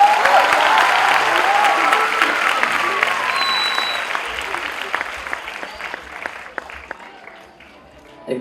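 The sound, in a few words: audience applause at celebration event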